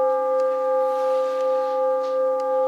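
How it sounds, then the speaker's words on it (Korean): A deep, sustained bell tone hums steadily, its resonance slowly swelling and fading in gentle pulses, with no voices. "조용하게 종소리를 들어보십시오"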